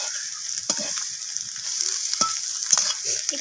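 An egg sizzles in a wok while a spatula stirs and breaks it into small pieces, with a steady bright hiss broken by several sharp scraping taps of metal against the pan. No one speaks.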